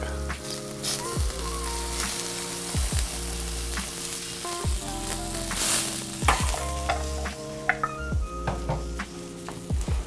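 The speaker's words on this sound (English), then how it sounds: "gonna go ahead and add my fish stock" Fish stock goes into a hot pan while making blackened salmon, and it sizzles and crackles loudly and continuously close up, with scraping stirring strokes repeating through it and no voices.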